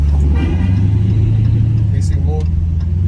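A deep, loud Corsa performance exhaust on a Dodge Challenger 1320 rumbles at a steady idle with slight revving, while people talk over it.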